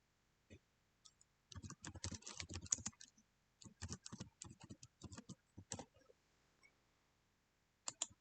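Quiet, close bursts of typing on a computer keyboard, with clustered key clicks separated by short pauses and a single click near the end, and no talking.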